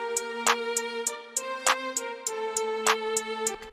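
West Coast hip-hop beat programmed in FL Studio: a sustained melodic loop with regular bright hi-hat ticks and periodic snare-like hits, steady rhythm, loud and upfront with no talking.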